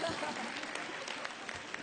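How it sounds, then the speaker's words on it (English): Audience at an environmental summit breaks into brisk applause, a dense wash of clapping with a few sharper individual claps standing out near the end. "Round of applause, ang gwapo ni Dr. C.P. David."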